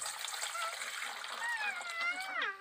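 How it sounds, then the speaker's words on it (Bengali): Water is poured into a bowl while preparing cauliflower pakora, a close, continuous trickling and splashing with rising gurgling tones as the bowl fills, heard alone. "এখন আমি বাটির মধ্যে দিয়ে দিব জল।"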